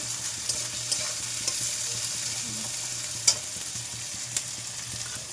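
Slit chilies sizzling in a frying pan for a mixed-vegetable dried prawn dish, a steady soft frying hiss with occasional light stirring clicks, close and moderate, no voices.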